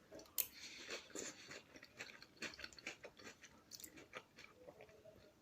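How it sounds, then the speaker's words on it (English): Crunchy chewing of crispy chilli shredded beef, close and quiet, with irregular crisp bites and crackles repeating over several seconds. "I don't know if you can hear that crunch"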